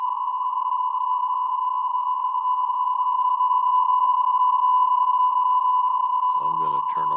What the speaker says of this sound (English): So there's a signal. You can hear it, and you can watch it being decoded